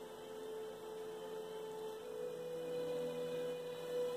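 A homemade static grass applicator gives a steady, faint electrical whine and hum as it charges, holding a constant tone throughout with no speech.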